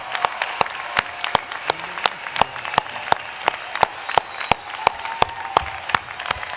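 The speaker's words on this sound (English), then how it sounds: "Let's give a big round of applause for all the graduates." A commencement audience at a business school ceremony applauds the graduates with steady, distinct, rhythmic claps that carry on throughout without a break.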